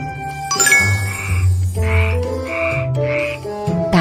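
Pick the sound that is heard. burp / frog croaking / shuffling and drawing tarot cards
frog croaking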